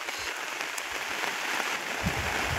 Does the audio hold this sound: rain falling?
yes